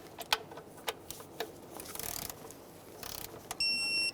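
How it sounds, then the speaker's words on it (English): Ignition coil bolts on a 2015-2020 Ford F-150 3.5L V6 are tightened with a torque wrench: a handful of sharp, separated ratchet clicks and small metallic knocks, then a steady electronic beep near the end. "we're going to torque these to 89 inch-pounds plus an additional 45 degrees"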